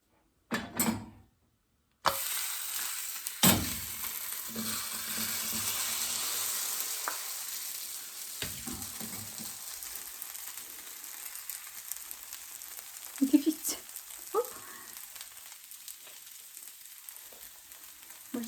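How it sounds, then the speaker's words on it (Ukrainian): Steady, moderate sizzling of a casserole frying in an oiled pan, with a few sharp clicks and scrapes of a utensil partway through; no talking. "швиденько перекинула на сковороду. Будемо смажити, пробувати."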